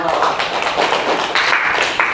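Students in a classroom clapping together in applause, a steady dense patter of hands lasting a couple of seconds, fairly loud and close, with voices mixed in.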